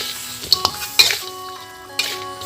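Fried pork ribs go into a pan of simmering sauce and are stirred, with a few sharp utensil clinks against the pan over a soft, low sizzle, all close by.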